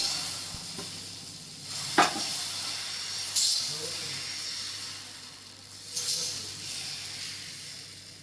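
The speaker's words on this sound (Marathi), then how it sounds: "कढीपत्त्याचा डोसा टाकून घेते" Curry leaf dosa batter sizzles and hisses on a hot tawa, with a few sharp louder bursts of frying and scraping over a steady low hum.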